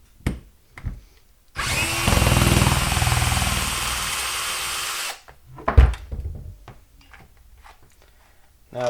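An older Black and Decker drill with a plastic body, in working order, runs steadily at full speed for about three and a half seconds. The loud, even whir is bracketed by handling clicks and knocks before and after.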